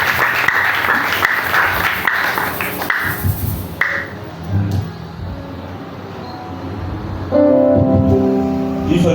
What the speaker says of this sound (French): nous allons aussi l'encourager avec nos acclamations